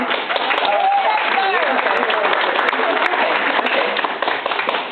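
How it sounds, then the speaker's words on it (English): Audience applause at a National Drive event, a steady dense wash of clapping lasting throughout, with voices and other noise mixed in. "So we get lots of applause"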